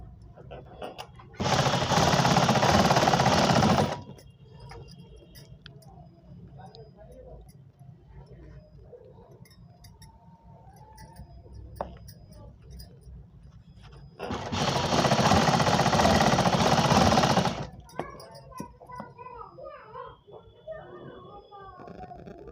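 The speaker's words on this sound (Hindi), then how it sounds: "अभी एक पेटीकोट सिलूँगी, उसमें उल्टी तरफ से सीधी की तरफ दिखाऊंगी सिल के" A sewing machine stitches a four-panel petticoat in two loud, steady rattling runs of a few seconds each, close up, separated by quieter handling noise and someone talking in Hindi.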